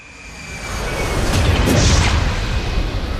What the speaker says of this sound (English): This is the second plane crashing into the second tower.